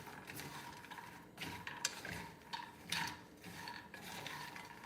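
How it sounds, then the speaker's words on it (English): Pecans are moved around a small skillet as they toast for candy, making quiet, continuous rustling and scraping with a few faint knocks, close but low in level, with no talking. "we're gonna put these pecans right into our little skillet"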